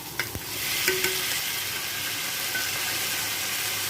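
Homemade paneer frying in a pan, a steady sizzle with a few stirring scrapes and clinks near the start, close and continuous with no talking.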